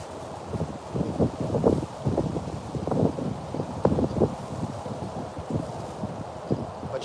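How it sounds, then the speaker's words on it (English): Wind gusts buffet the microphone outdoors during catfishing in a steady low rumble, broken by irregular thumps and rustling bursts. "Man, it's so windy."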